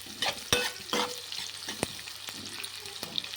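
Salted onions frying in oil for egg biryani while being stirred, giving a strong close sizzle broken by a few scraping stirs of a spoon in the pan.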